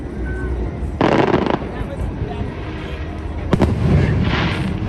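Fireworks at Disney World bursting over the boardwalk at night, two loud crackling bursts a couple of seconds apart with rumbling booms and crowd noise between.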